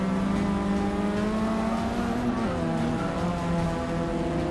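A race car engine in the Forza 6 racing game strains near redline in second gear, a loud sustained high-revving whine with steady harmonic tones that dip slightly midway.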